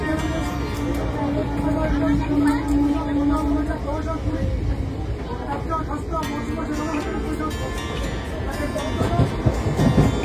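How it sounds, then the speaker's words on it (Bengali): A Bongaon local passenger train rumbles into a station with a steady low roar and a sustained hum, joined by squeals and clatter toward the end, busy platform noise around. "আমাদের বনগাঁ লোকাল এখন ঢুকছে, চলুন আমরা ট্রেনে উঠি"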